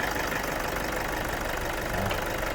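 Car engine idling with heavy vibration while a mechanic diagnoses the fault, a loud, steady, rough rumble that holds constant throughout.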